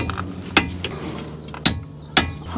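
A Milwaukee power tool snugs the caliper bracket bolts on a Toyota Camry's front brakes, giving three short, sharp mechanical bursts with ratcheting clicks, close and loud, separated by brief pauses.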